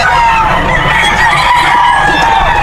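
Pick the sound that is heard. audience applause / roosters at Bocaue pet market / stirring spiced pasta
roosters at Bocaue pet market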